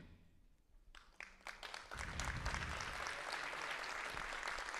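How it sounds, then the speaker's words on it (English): An audience at an employee recognition event breaks into applause, with scattered claps building into steady, full clapping from a large crowd in a hall. "I didn't even ask you to applause."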